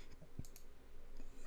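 Single sharp mouse click at a desk while navigating AAON Prism2 HVAC software, a lone brief tick against quiet room hiss with a faint second click later.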